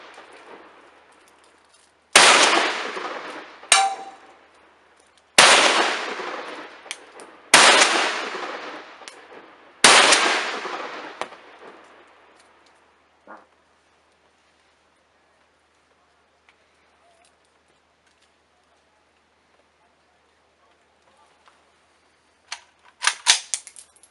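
An Albanian Tipi 56-1 SKS rifle fires at metal targets outdoors. Five loud shots come a few seconds apart, each followed by a ringing decay, then a long quiet stretch and a few faint clicks at the end.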